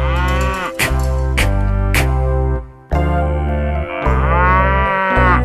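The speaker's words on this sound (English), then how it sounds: "Connie cow, Connie cow" A cow moos loudly in long, drawn-out calls, about four in a row with brief breaks between them, set within a children's song about a cow.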